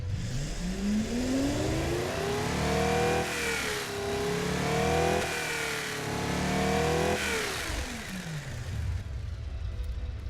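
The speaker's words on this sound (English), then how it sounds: "So as you can hear, the engine is producing good torque at low RPM, but it's so lazy." A car engine revs up and down several times at fairly low revs, a loud rising and falling growl that holds steady throughout.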